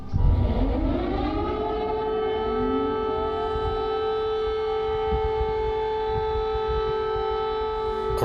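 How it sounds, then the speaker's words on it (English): A long, steady air raid siren in Ukraine wails loudly, rising at the start and then holding a sustained tone with a low rumble beneath it, no voices. "the air raid sirens went off"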